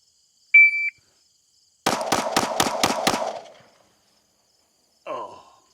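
A shot timer beeps once at a 5-yard pistol range, then a quick string of six 9mm Glock shots rings out close and loud, followed by a brief spoken reaction.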